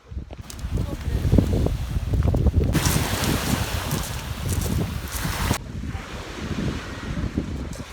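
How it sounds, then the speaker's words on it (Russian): Wind buffeting the microphone at Lake Alakol in gusty, steady roaring bursts, with waves and open-air noise mixed in throughout. "Немного ветреная погода"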